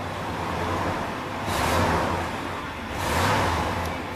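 A red 1995 Chevrolet Silverado 1500 Z-71 4x4 pickup engine idles loudly and close, then swells in two distinct revs before settling back each time, with no talking.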